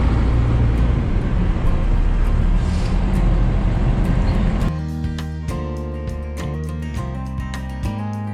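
A 4x4 expedition truck driving on a road near Bremerhaven, Germany, its steady engine drone and road rumble heard from inside the cab, shifting to a lower, more tonal hum partway through.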